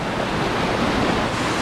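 A waterfall on the Dumaka River gives a steady, loud, broad rush of falling water, constant and unbroken with no voices.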